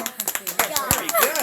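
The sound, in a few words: audience applause for a magic trick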